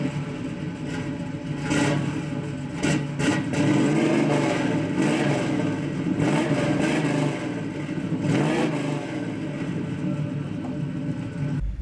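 A 1967 Chevrolet Camaro convertible restomod with modernized engine internals starts up and revs, a loud, close engine rumble with repeated throttle blips and surges rising and falling over about twelve seconds, no talk.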